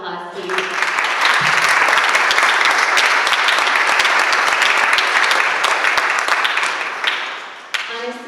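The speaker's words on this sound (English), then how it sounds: "So let's give them a round of applause" An audience at a SEWA Houston fundraiser in 2016 gives volunteers and interns a round of applause, loud sustained clapping from a large crowd that swells quickly, holds for several seconds, then tapers off near the end.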